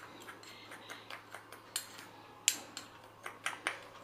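A spoon mixes chili powder and salt together in a small bowl, giving soft, irregular clinks and taps close by, a few sharper ticks standing out against a quiet background.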